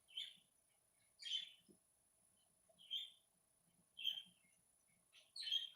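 Birds chirping outdoors, heard alone as five short bursts of high, bright calls spaced about a second apart over quiet background.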